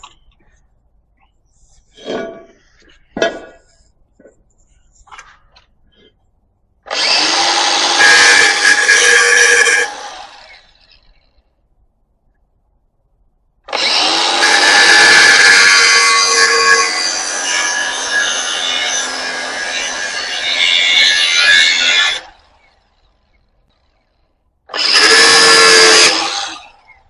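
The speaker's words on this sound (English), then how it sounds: "Sorry for the grinder noise being so loud and everything." Harsh, loud bursts of grinder noise, several seconds each, with short sharp knocks beforehand and silent gaps between the bursts, during air ride suspension work on a 1962 Chevy C10.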